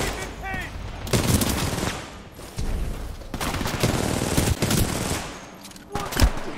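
In the Titanfall 2 video game, rapid automatic gunfire lays down suppressing fire. Repeated loud bursts chatter in several stretches, with a heavy boom near the end and a voice speaking between them.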